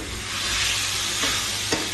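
Food frying and being stirred in a pan, with a continuous close sizzle and a couple of scraping stir strokes.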